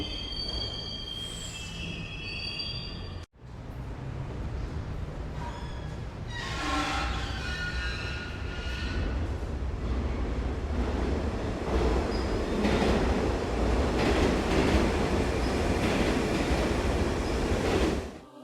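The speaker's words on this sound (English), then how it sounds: "The metro begins to move, and ICEY is hurled towards her destiny," A metro train car in the video game ICEY rumbles steadily along the track with a continuous roar, squealing wheels and faint rhythmic clatter that builds slightly as it moves.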